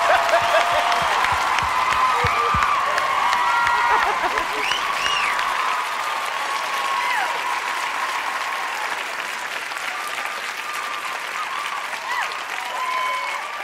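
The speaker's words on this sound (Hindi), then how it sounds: "अदनान सिद्दीकी साहब तालियां बजा लें" An awards show audience breaks into sustained applause, full and loud at first, then settling slightly but continuing as broad clapping from a large crowd with a few faint cheers mixed in.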